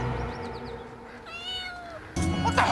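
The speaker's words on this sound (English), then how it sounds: "Did you find a kitten?" A kitten meows a few times, thin rising and falling cries close by, followed by a sudden burst of louder noise.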